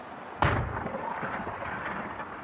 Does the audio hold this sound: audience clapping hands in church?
no